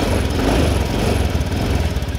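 A Honda Beat FI scooter engine with a charging fault and misfire runs steadily and is revved with the throttle, a loud, close, continuous buzzing drone with a slightly uneven pulse and no talking.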